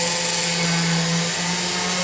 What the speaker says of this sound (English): you want to keep your drill going at a pretty good speed